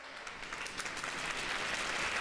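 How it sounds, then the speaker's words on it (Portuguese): A church congregation breaks into applause, a broad wash of many hands clapping that swells slightly and stays steady, somewhat distant and reverberant, with no talk over it. "Aplauda Ele."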